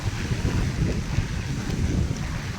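Strong wind buffets the microphone in a continuous low roar, rough and gusty, with no voices present.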